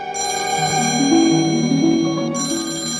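An old-style telephone rings in a radio drama of The Maltese Falcon, a bright, sustained bell tone that stops briefly and starts again near the end, loud and close with no voices.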